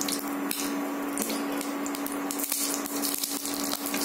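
Tempering seeds crackling in hot oil in a heated pan, a close, dense sizzle broken by sharp pops and spits at irregular intervals, no one speaking.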